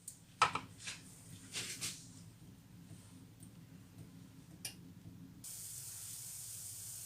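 Maize-flour crêpe batter sizzling in a hot pan, a steady soft hiss with a few faint clicks and taps, ending in a louder, brighter steam hiss.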